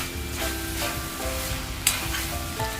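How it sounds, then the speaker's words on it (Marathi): Banana flower vegetable sizzles steadily in a pan over a high gas flame, a continuous close crackle with soft stirring scrapes and one sharper clink near the middle, with no talking. "गॅस थोडासा फास्ट केलाय असा चरचर आवाज आला ना हा बघा असा चरचर आवाज यायला पाहिजे"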